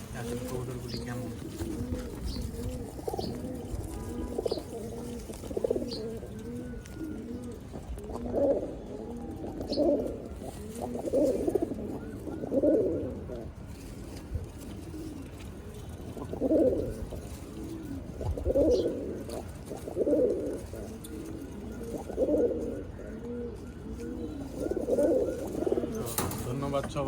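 Collared-throat pigeons cooing on a home rooftop, repeated soft throaty coos in rhythmic clusters, close and steady over a low background hum.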